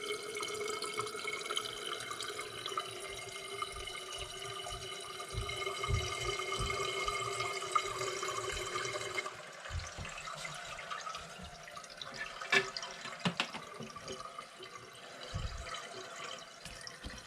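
Water flows steadily from a toilet fill valve into the tank, a continuous hissing rush that changes tone partway through, with occasional drips and small clanks, close by and without talk.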